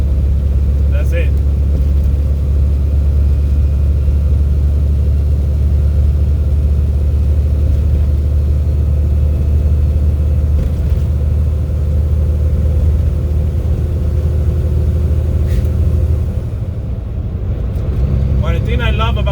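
A truck with a 13-speed transmission cruising at highway speed, its deep, steady engine rumble and road drone continuous and loud throughout, easing briefly near the end as a gear is split.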